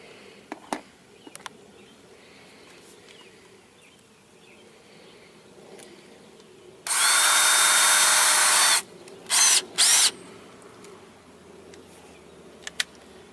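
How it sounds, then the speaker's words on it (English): A power drill whines loudly in one long burst of about two seconds, then two quick short bursts, against a quiet room, drilling while installing a power window kit on a 1997 Geo Tracker. "now I should be able to just drill these"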